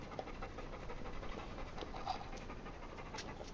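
Several dogs at a dog hotel pant steadily and quietly at close range, a continuous breathy rasp with no voices over it.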